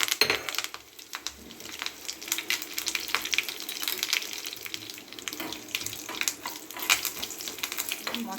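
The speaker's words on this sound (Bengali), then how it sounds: "এবার আমি ফোড়ন দিচ্ছি সর্ষে দুটো শুকনো লঙ্কা কারি পাতা" Mustard seeds, dried chillies and curry leaves sizzle and crackle in hot oil, a steady hiss with scattered sharp pops throughout, fairly close.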